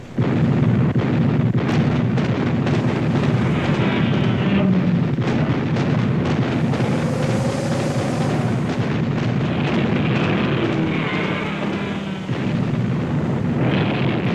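An artillery battery opens fire in a dramatized war scene, with dense rumbling booms and bursts of shell explosions rolling on continuously, loud and close, over a sustained low roar.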